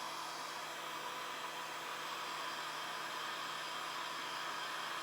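A heat gun blows hot air onto scratched, gouged plastic trim, giving a steady, loud, continuous hiss that holds level throughout with no pauses or talk.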